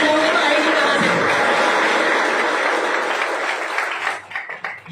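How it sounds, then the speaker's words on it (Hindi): An audience at a Nexmoney business event breaks into sustained applause, a dense wash of many hands clapping that holds steady for several seconds before thinning into scattered claps at the end. "इसलिए मैं बार बार बोल रहा था, तालियां बजाओ"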